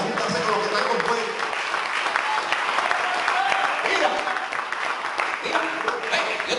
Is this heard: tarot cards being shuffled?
no